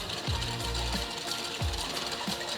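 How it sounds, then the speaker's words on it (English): Whisk stirring sugar, vanilla and milk in a bowl, giving soft rhythmic scraping strokes against the bowl at a fairly steady pace, quiet and close. "Now mix everything together using a whisk."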